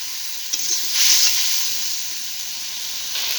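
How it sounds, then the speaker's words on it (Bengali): Spice paste with tomato stir-fried in a pan for a Bengali chicken rice dish gives a steady close sizzle and hiss, with a brief louder burst near the start and no voices. "দিয়ে মশলাটাকে ভালো করে কষে নেব।"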